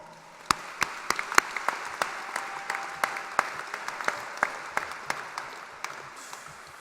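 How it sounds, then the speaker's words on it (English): Applause at a technical center's graduation ceremony, sparse and uneven, with sharp individual claps standing out over a thin crowd background, fairly close and continuing for several seconds. "Students, please give these individuals a round of applause."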